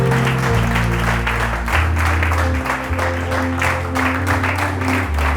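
A church congregation applauds and cheers the Lord, a dense, loud, sustained wash of clapping over a steady musical drone, continuing without break.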